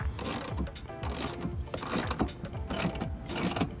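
A wrench ratcheting a bolt tight on a Tuffy under-rear-seat lockbox in a 2019-2022 Silverado or Sierra 1500 truck, quick repeated clicking strokes, close and fairly quiet.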